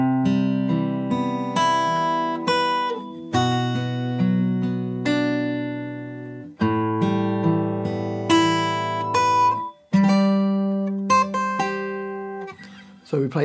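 Fingerstyle acoustic guitar plays the second line of a piece from Nier Automata, with clear picked notes and ringing chords in a steady, unhurried rhythm, played solo and close with no voice.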